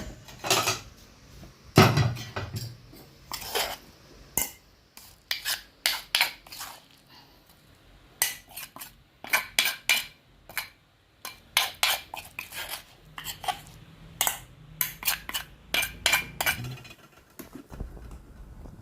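Shallots and chilies pounded in a mortar for a Thai tamarind chili paste, heard as a close, irregular run of sharp, hard knocks and scraping strikes with short pauses between bursts.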